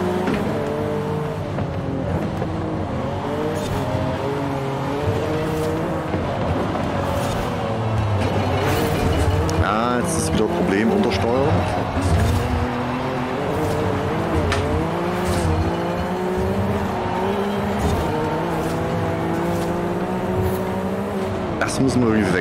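Race car in Forza Horizon 5 revs hard and holds a steady engine drone, with tyres squealing repeatedly through corners while the car understeers. Someone talks over the driving noise.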